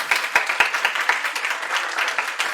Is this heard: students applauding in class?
yes